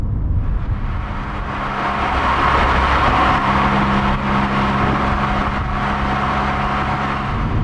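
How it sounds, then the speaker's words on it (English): Volkswagen Golf R hot hatch engine running, a steady low mechanical drone with a brief lift in revs partway through, heard from inside the car without talk. "The engine doesn't sound quite as good. It's not as throaty, unless you're in race"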